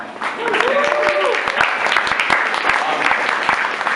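A conference audience claps steadily and loudly for several seconds, with a few cheers and voices mixed into the dense patter of applause.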